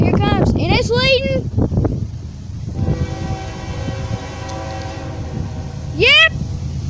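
A Norfolk Southern coal train led by an ex-CSX locomotive rumbles steadily past at close range, sounding several loud horn blasts near the start and one more near the end, with people talking over it.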